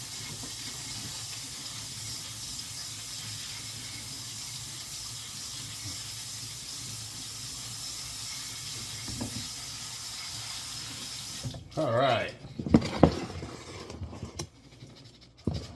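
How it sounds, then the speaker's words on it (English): Running water hisses steadily through a strainer of dry rice, a constant broadband rush that stops abruptly near the end, followed by a few clattering handling sounds and a short burst of movement. "I have a strainer, and I have 1 cup of dry rice, which I'm going to rinse the starch out"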